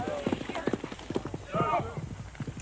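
Horse hooves clip-clop in a quick, uneven rhythm on a trail near the Cascade Saddle, close and clear, with a brief whinny and people talking over them.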